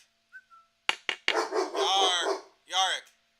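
A pet dog named Yarick gives a few sharp barks, then a louder run of barking and yapping, close by amid talk and calls in a home craft room.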